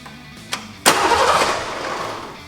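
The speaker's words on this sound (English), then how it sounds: "Now that was definitely a crank." A 1989 Ford Mustang GT with a no-start, no-crank fault: a sharp click, then the starter kicks in with a loud churning crank that rises abruptly and tapers off over about a second and a half.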